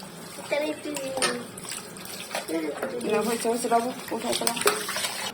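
Water splashes and pours while two pet rabbits are bathed, the trickle and splashing rising and falling under near-constant gentle talking.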